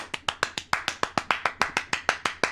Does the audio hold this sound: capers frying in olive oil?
no